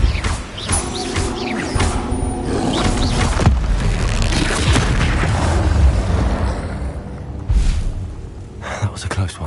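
Repulso spell blast in Hogwarts Legacy, a loud booming burst followed by crashing game effects and rumbling, continuing amid busy combat sounds.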